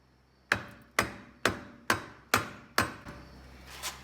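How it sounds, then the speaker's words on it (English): Six sharp hammer blows strike a wood block at an even, steady pace, tapping a car's front wheel axle out, each a crisp knock, followed by a couple of softer scrapes. "you can take a piece of wood like this and a hammer and simply tap it out"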